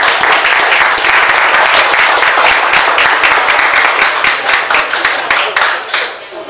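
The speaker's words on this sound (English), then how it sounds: "give our vendors a big round of applause" A crowd at a holiday networking event in Tracy gives the vendors a big round of applause, loud close clapping with individual sharp hand claps standing out, holding steady before tapering off at the end.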